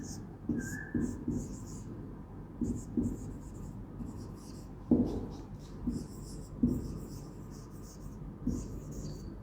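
Chalk or marker strokes from a teacher writing an exercise on a classroom board during a science lesson, coming in short repeated scratchy bursts with pauses between, close and moderately loud.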